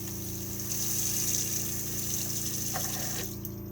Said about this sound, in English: We need the water pump on so we can get water out of the taps.